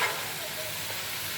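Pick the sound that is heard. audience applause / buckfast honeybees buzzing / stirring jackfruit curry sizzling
stirring jackfruit curry sizzling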